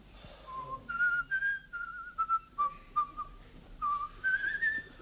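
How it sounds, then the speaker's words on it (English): Someone whistles a meandering tune nearby, with short phrases and pauses in a quiet room. "Stop whistling!"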